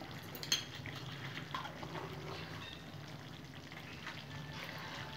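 Ghee sizzles and crackles softly in a pan for egg curry, a steady low frying hiss with a few faint clinks of a utensil, fairly quiet and without talk.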